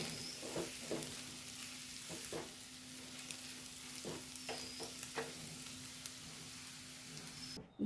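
An egg snack sizzles steadily in a pan, its frying hiss constant underneath as a spoon scrapes and stirs in a few soft, irregular strokes, all fairly quiet and close.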